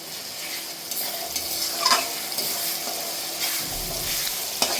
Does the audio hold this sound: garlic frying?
yes